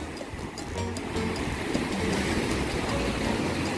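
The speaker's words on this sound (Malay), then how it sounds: "Jadi di beting pasir ni, ombak datang dari dua arah." Waves break continuously over a sandbar from two directions on a remote island shore, a loud, close, rolling surf wash that builds slightly toward the end.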